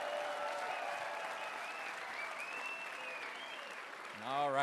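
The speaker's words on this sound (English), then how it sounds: "Let's give our hosts a big round of applause for having us today." A campaign-rally audience applauds steadily for several seconds, a broad, even wash of clapping that holds level throughout, with a voice coming in over it near the end.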